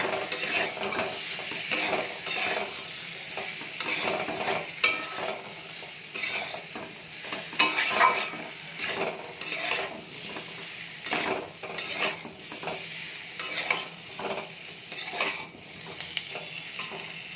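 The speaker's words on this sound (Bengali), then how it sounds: "চলো তরকারিটা একটু কষিয়ে নেবো" Fish curry with tomato and red Kashmiri chili powder, with papaya and potato, is stir-fried in a pan: steady sizzling under repeated scraping and clattering strokes of a utensil, close and moderately loud, with no talking.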